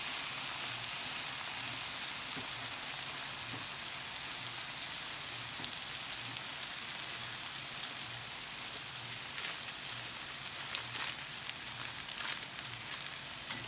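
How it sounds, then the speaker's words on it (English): Thin spaghetti going into a pan of boiling water for shrimp scampi, giving a steady close bubbling and hissing wash with faint crackles and no talk. "Now, the water's boiling,"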